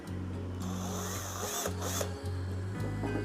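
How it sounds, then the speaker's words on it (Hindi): Close-up whir of an Izom battery screw drill set to screwing mode despite a faulty mode selector, the motor running in a few short bursts separated by brief pauses. "ये जो है स्क्रूइंग मोड में है।"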